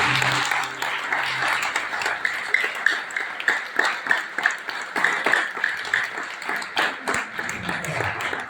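A church congregation at a thanksgiving service applauds steadily, with rhythmic clapping building into a regular beat alongside bright ringing tones.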